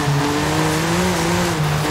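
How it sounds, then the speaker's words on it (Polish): BMW M4 G82 3.0-litre twin-turbo inline-six in Forza Horizon 5, close and loud, a steady droning exhaust note holding at one pitch, with a slight dip and rise near the end and no voices. "Mamy ten bardziej agresywny układ wydechowy teraz, więc samochód powinien lepiej brzmieć, znaczy bardziej wyraźnie."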